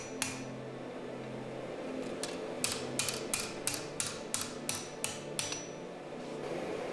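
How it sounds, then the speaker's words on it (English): A hammer rings sharply against the edge of a pattern-welded steel Viking seax in a quick, regular series of about a dozen forging blows, each strike bright and metallic over a quiet background. "As you see me hitting the sword edge with the hammer"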